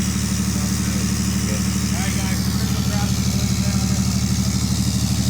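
A 6.7 Cummins diesel pickup truck with a 5-inch straight pipe exhaust idles high and loudly nearby with a steady, throbbing rumble and quick regular exhaust pulses, never revving.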